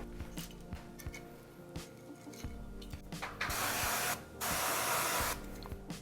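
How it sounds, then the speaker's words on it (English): Short spritzes of olive oil from a spray nozzle onto chicken breasts, then two longer hissing sprays close by, separated by soft handling clicks and rustles. "give them a light spray of olive oil"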